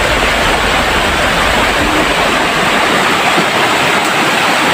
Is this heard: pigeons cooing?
no